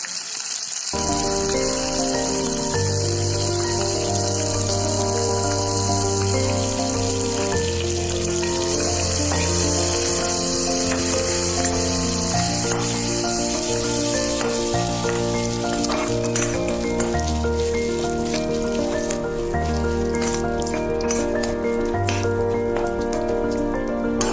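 Green chillies, curry leaves and spices frying in oil in a pan, a constant close sizzle and crackle running throughout, layered beneath continuous background music.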